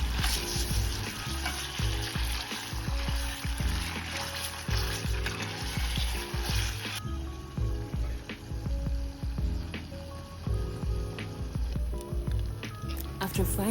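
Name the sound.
tomato paste frying and being stirred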